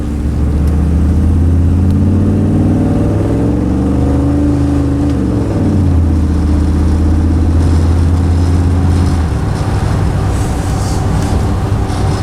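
A 1981 Chevy C10 pickup truck's engine drones steadily and loudly during a night test drive, its pitch rising and sweeping as it accelerates through gears, with constant road rumble throughout.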